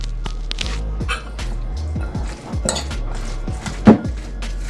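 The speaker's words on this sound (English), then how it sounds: "Now we're mixing this well to combine." A utensil clinks and scrapes against a bowl while seasoned ingredients are stirred together, making irregular taps and clatters, one louder knock near the end, with no voices.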